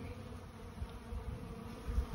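Honey bees buzz in a low, continuous drone around a Langstroth hive on a warm 70-degree winter day, close and steady with no voices.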